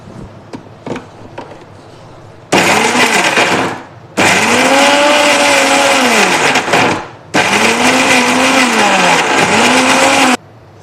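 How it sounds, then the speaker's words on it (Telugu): A kitchen mixer grinder pulverises ripe red chillies into a coarse paste for an amla chutney, running in three loud, sustained bursts with a whining motor pitch that rises and falls, separated by brief pauses. "ఇప్పుడు ఈ పండు మిర్చి ఉన్నాయి కదా, మిక్సీ మెత్తగా వేసుకుందాం."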